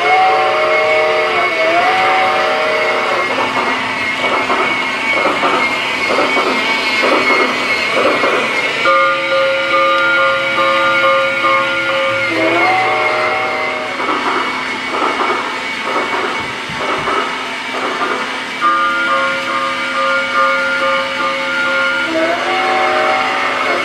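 A Disneyland 60th Diamond Anniversary railroad toy train set clatters along its track while a high whistle toots several times in short bursts, the rhythmic running noise continuing underneath.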